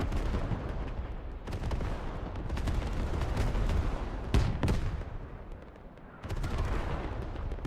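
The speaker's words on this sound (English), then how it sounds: "we have the Russian artillery coming into the point" Russian artillery fire in the military shooter game Squad, a continuous dense rumble of distant impacts and blasts, with one sharper crack partway through, followed by a brief lull before the barrage resumes.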